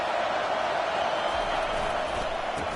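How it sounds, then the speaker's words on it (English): Football stadium crowd at a Penn State versus Miami game, a dense, steady roar of many voices that stays loud throughout, with faint broadcast speech mixed underneath. "This crowd bringing the energy and noise early."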